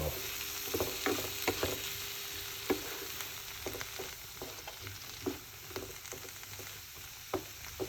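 Food sizzles in a frying pan as it is stirred, with irregular scraping clicks of a utensil over a steady frying hiss; a salmon dish with seeds being cooked, no talking.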